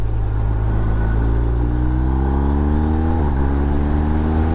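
A BMW R1250R motorcycle engine rumbles loud and close, its revs climbing steadily before a brief dip at a gear change, then pulling up again.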